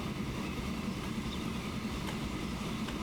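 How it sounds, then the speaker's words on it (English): Train running in the Transport Fever video game, a steady low rumble with a continuous hum that stays even throughout, no speech. "Let's have a look at our train come out."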